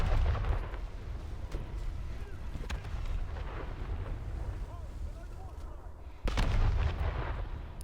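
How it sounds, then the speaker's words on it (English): Ship cannons boom repeatedly in the naval game War Thunder Mobile, a rumbling series of low blasts with a heavier shot near the end, while someone talks over the gunfire. "Get those rear cannons on the target, please."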